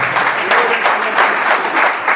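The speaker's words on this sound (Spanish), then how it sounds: "Vamos a dar un aplauso" A church congregation bursts into loud, close applause, a thick wash of many clapping hands that swells in gentle waves without pause.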